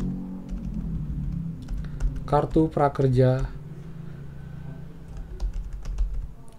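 Keyboard keys clatter in a quick burst of typing to search in Safari, close and crisp, with someone speaking before and after the keystrokes.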